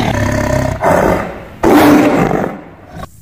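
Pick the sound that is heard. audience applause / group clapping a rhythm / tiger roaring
tiger roaring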